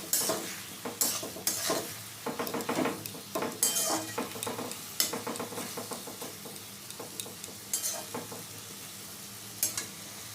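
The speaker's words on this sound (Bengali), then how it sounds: "এবার ভালো করে আবার টমেটোর সাথে ভালো করে নাড়াচাড়া করে নেব।" Tomato chutney with salt and turmeric is stirred in a hot pan: irregular scraping and clattering strokes over a soft sizzle, close and moderately loud, with no voices.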